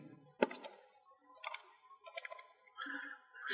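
Computer keyboard keys tapped in short bursts while a hostname is typed, clicky clusters of keystrokes separated by brief pauses, close and fairly quiet.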